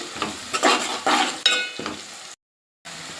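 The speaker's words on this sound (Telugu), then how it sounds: "ఇందులో ఒక స్పూన్ జీలకర్ర హాఫ్ టీ స్పూన్ పసుపు వేసి దూరగా వేయించుకోవాలి" Cumin seeds and turmeric fry in a pan with a close crackling sizzle and stirring scrapes in short bursts, then a brief dead silence before the sizzle returns.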